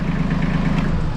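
An Iseki TLE3400 compact tractor engine idles steadily after warming up, a loud, close, low diesel rumble with an even pulsing throb and no break.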